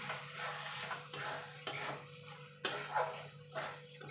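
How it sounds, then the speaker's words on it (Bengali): Carrot halwa being stirred in a pan, repeated scraping and clinking of a spoon against metal in a rough rhythm over a soft sizzle, close and fairly quiet. "এবার ভালো করে নেড়ে দেবো।"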